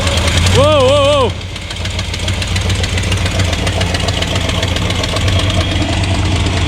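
A vehicle engine labors steadily while easing up a ramp onto a trailer, with a rough, knocking mid-range drone that holds close and fairly loud throughout, after a brief loud voiced shout at the start.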